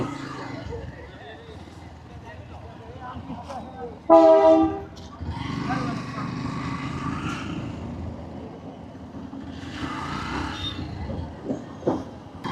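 A train horn blares briefly, loud and close, at a railway crossing over a busy street background with chatter and rumbling traffic.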